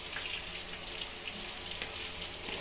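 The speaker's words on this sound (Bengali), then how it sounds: "আলু টালু ভাজতে বসিয়ে দিয়েছি," Potatoes fry in a pan for lunch cooking, giving a steady, quiet, even sizzle with a hissing, watery texture and no talk over it.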